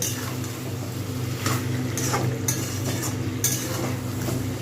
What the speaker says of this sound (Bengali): এবার আমি চিকেনটাকে একটু ভালো করে কষাবো